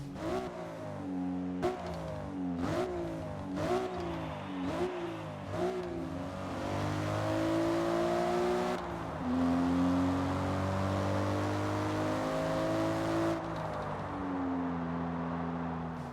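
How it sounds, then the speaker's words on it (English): A 1998 Toyota Supra engine in the Forza Motorsport racing game revs in quick repeated bursts through several gear shifts, then settles into a long sustained high-revving drone, loud and close with no talking. "they've updated the audio for the 1998 Toyota Supra"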